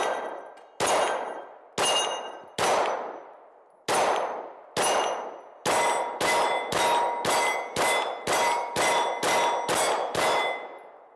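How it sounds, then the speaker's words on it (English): A Kimber R7 Mako compact pistol fires about fifteen rounds: four spaced shots, then a fast, even string. Each sharp crack rings out with a short, echoing decay. "I'm gonna put another 20 rounds through it"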